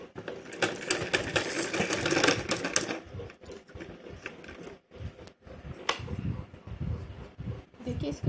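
A sewing machine runs in fast rattling bursts while stitching a fabric blouse piece, loud and close at first, then stopping and restarting in shorter spurts with pauses between.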